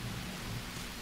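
Steady rain falls in the jungle survival game Green Hell, a dense, even hiss that fills the short stretch alone with no voices.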